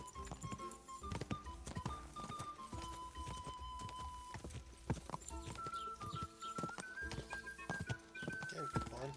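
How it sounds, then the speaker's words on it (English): Horse galloping in Kingdom Come Deliverance 2, rapid rhythmic hoofbeats pounding close and clear throughout, with a sustained musical tone underneath. "You got a fast horse."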